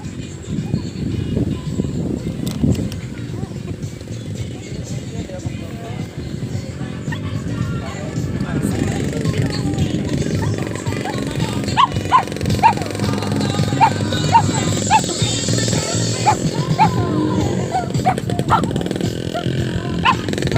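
A dog barks repeatedly at a home during a family visit, with yips mixed into steady conversation and some passing traffic in the background.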